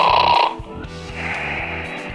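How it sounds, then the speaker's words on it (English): A short loud tonal blast gives way to a cartoonish snore, a rough rumbling breath repeating in a steady rhythm, close and clear over a faint background. "Snore."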